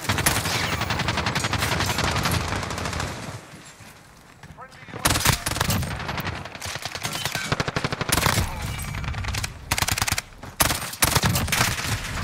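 Automatic gunfire in the survival game Rust comes in loud, rapid bursts, with a brief lull midway before more clattering volleys and sharp single cracks return.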